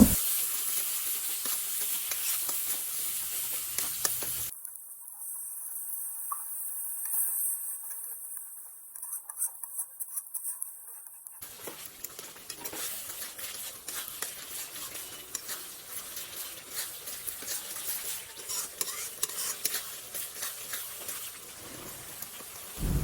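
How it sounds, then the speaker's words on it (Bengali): Spice paste with salt and turmeric being sautéed and stirred in a pan for a cauliflower and flat bean vegetarian curry, giving a steady sizzle with scraping stirs. A stretch in the middle drops out almost to silence. "এবার ভালো করে মশলাটা কষিয়ে নেব।"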